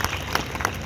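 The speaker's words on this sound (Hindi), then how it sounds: "आप लोग जोरदार तालियां बजाकर उनका धन्यवाद करें" A political rally crowd claps in thanks, a short burst of dense, loud applause with a few sharper individual claps standing out.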